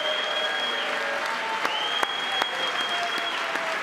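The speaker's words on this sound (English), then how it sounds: "Look at them all applauding him." An audience in a government chamber gallery applauds a president in a steady, sustained round of clapping, with a faint tone and some murmured voices underneath.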